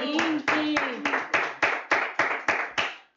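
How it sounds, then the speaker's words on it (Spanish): A small group claps for a dog handler at a dog adoption event: about ten sharp, evenly spaced claps that keep a steady rhythm, close and fairly loud, with a brief voice at the start. "pues un aplauso al manejador"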